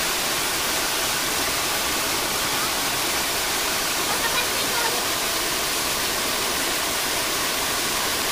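A waterfall at Lohas Park pours with a loud, continuous broadband rush that holds steady from start to finish with no pauses.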